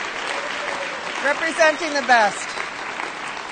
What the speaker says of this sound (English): How about one last big applause for all of our finalists in the room today?